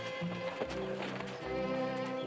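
Horse hooves clip-clop at a walking pace through a funeral procession, steady irregular hoofbeats with a brief whinny-like tone, set against a busy background of low sustained music.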